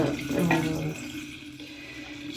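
Room-temperature filtered water pouring into a container for homemade makgeolli, a steady splashing gush that fades after about a second into a quieter trickle.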